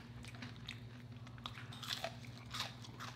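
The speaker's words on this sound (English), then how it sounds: "That fish got a crunch on it too." Close, crisp crunching as someone bites into Dairy Queen fried fish and onion rings, with repeated bites and chewing over a low steady hum and no talking.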